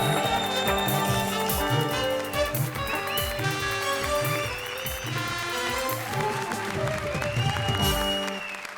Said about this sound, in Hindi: जोरदार तालियां भारती और सुकेश के लिए, प्लीज